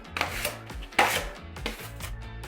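A 40-inch skimming knife drags across a drywall surface in a few quick, close, scraping strokes over a low steady hum.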